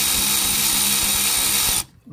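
Power tool loosening 10mm bolts from the air inlet of a Honda FL5 Type R, a loud steady whir running for about two seconds, then stopping abruptly.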